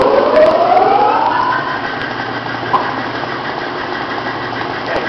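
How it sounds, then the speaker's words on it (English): The main motor of a fuel injection pump test bench starts up, its pitch rising in a climbing whine before settling into a loud, steady mechanical hum close by. "We're going to turn the supply pump on, which is being shown on the gauge, and we're going to start the main motor."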